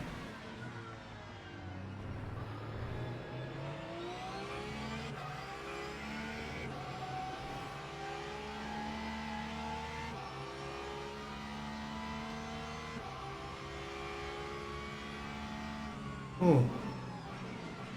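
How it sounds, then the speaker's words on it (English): Porsche GT3 race car engine in the Le Mans Ultimate racing game at Portimão, revving loudly and continuously with rising and falling gear-change pitch, plus a brief sharp burst near the end. "How's the noise of the Porsche? I think it's a nice noise."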